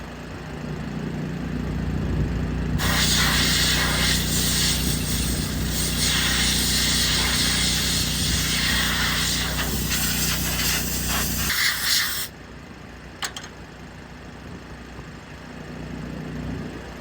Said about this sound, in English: We'll let that air compressor charge up again.